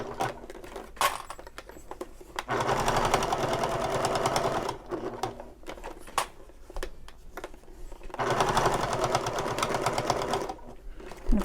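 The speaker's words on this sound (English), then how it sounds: "I'm lengthening the stitch, and I'm edge stitching my binding" A sewing machine edge stitching the binding on a shoulder bag with a lengthened stitch, running in two long steady bursts of rapid needle chatter, close and loud, separated by quieter handling and clicks.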